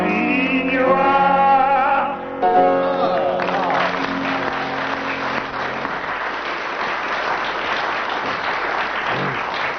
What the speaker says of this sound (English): the audience applauded for 25 seconds